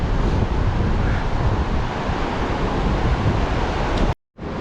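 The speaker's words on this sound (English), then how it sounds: "look at that water hitting the rocks over there" Pacific Ocean surf crashing against rocks on the coast near La Push, Washington, a loud continuous roar mixed with wind buffeting the microphone, then a sudden brief cut to silence near the end.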